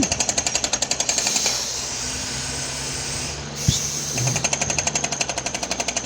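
A borewell drilling rig vibrating and boring into hard ground hammers in rapid, regular percussive bursts up close, loud and mechanical, pausing into a steadier grinding drone in the middle before the pounding resumes.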